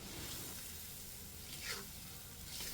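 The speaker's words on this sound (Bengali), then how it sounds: "মশলাকে ভালো করে কষিয়ে নিয়ে চিংড়ি ভাজাগুলো দিয়ে দিব" Fried prawns go into a pan of sizzling, well-cooked masala, giving a faint, steady frying hiss with a brief brighter sizzle partway through.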